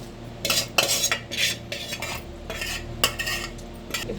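Chili powder being mixed with cooled oil for mango pickle, a spoon scraping and clinking against a bowl in uneven strokes, close and fairly loud, with no one talking.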